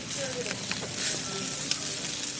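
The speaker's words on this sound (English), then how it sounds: "The pancakes and eggs were sizzling on the flat top." Pancakes and eggs sizzle steadily on a hot flat-top griddle, a constant bright crackling hiss with small pops, close by.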